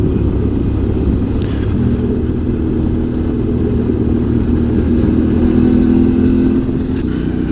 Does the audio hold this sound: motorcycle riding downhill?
yes